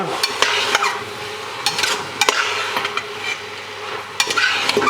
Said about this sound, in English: Okay, we give it all a good stir.